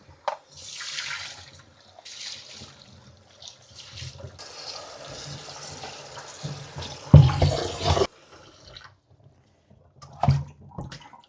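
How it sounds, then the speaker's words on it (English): Broccoli seeds rinsed under a running kitchen tap, a steady stream of water splashing and shifting as the seeds are swirled, with a louder gush near the end followed by brief drips and handling noises. "Next step, I will rinse this off really well."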